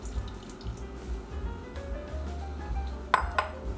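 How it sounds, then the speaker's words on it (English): Passion fruit pulp goes into a small saucepan, with light clinks and taps of cookware and a couple of bright metallic pings near the end over a quiet kitchen background. "So we'll add the passion fruit to a small saucepan."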